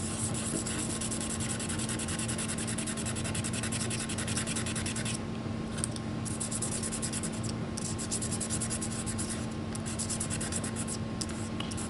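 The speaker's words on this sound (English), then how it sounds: "So a little bit of sanding comes with the territory." Steady, continuous rubbing of sandpaper on a small Mosin Nagant M91/30 trigger shim, a dry scratchy hiss running close and even the whole time over a constant low hum, with no talking.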